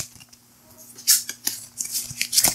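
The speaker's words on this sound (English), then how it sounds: "You're going to shuffle these up." Ascension deck-building game cards shuffled by hand, giving soft papery riffles and flutters in several short bursts, close and moderately loud, alone.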